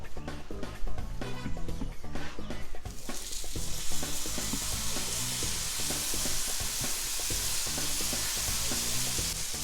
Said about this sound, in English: When you're cooking a steak, you want to make sure your grill, flat top grill, cast iron, skillet, whatever you're cooking on, hot.